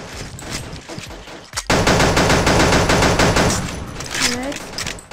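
Gunfire in the shooter game Pixel Gun 3D: scattered shots at first, then a dense, loud sustained burst of rapid automatic fire with some overlapping effects near the end.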